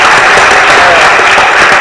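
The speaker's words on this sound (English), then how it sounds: "Come on, folks, give him a round of applause." Loud, dense audience applause with some crowd cheering, a continuous roar of many hands clapping at full volume from start to end.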